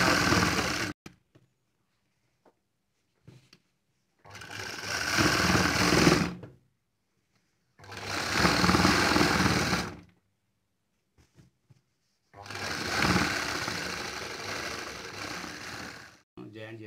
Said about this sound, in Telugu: ఇలా మనం కుట్టుకోవాలి ఫ్రెండ్స్